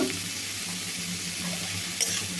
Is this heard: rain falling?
no